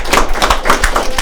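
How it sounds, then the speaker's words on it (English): Applause from an audience at an event with an artist and a publisher, a short burst of close hand claps that is loud and uneven. "I want everybody to applaud now"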